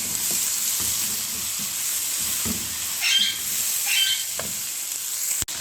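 Vegetables including capsicum and cabbage sizzle steadily in hot oil for a vermicelli pulao, a continuous frying hiss with a couple of brief louder flare-ups and a sharp click near the end.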